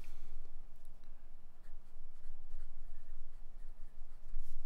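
A Twisby Echo limited-edition Smoke Rose Gold fountain pen with a medium nib scratches across Oxford Optik paper in steady, close strokes, a soft continuous scratching with small rhythmic pauses between lines and no voices.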